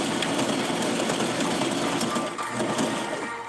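A sewing machine runs steadily, back stitching seams on a Ken doll outfit at an eighth-inch seam allowance, making a continuous close mechanical whir with a slight dip near the end.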